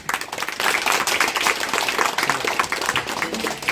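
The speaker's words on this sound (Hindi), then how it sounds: "भाई जोरदार तालियां।" Loud clapping from an audience at a coaching class opening ceremony in honour of a guest, dense and steady for the whole stretch with a few voices mixed in.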